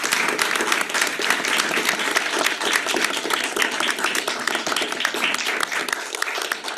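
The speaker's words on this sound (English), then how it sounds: "join me in a round of applause for our panelists" A room full of people at a public meeting applauds steadily, dense clapping at an even level throughout with no talking over it.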